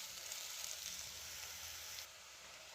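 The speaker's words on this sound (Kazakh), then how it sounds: "3-4 минут қуырамыз." Grated beetroot fries in a pan, a soft steady sizzle close by that drops slightly quieter near the end, with no talking.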